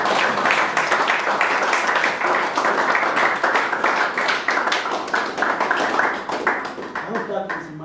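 A crowd applauds steadily, many hands clapping together in a dense, sustained patter that tapers slightly near the end.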